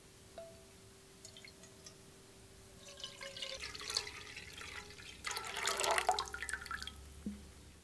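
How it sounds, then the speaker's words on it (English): Water pours into a cooking pot, quiet trickles and splashes that swell into a louder gush briefly before fading, with low room hum beneath. "The first thing we need to do is get our pot and put in 2 quarts of water."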